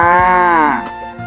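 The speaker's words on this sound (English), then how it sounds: "Cow." A cow gives one loud, close moo that starts strong and slides downward in pitch before fading at the end.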